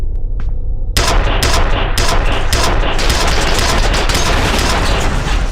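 Rapid, dense gunfire in the video game FEAR tears into boxes. It bursts in loud and continuous after a quieter first second, with no talk over it.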